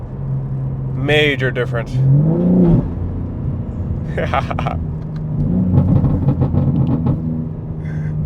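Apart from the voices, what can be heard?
BMW G80 M3 S58 exhaust with valves open, ARM mid-pipe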